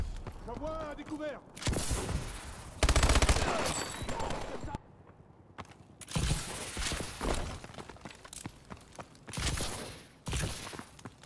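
Video game gunfire comes in repeated loud bursts and volleys separated by short pauses, mixed with mechanical clatter, while someone talks in French over parts of it.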